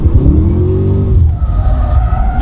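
An HSV GTS E3 Walkinshaw Enhanced Monaro V8 with Bilstein shocks, driven hard around cones: loud close engine revving with rising and falling pitch, briefly easing off, then tyre noise and more throttle.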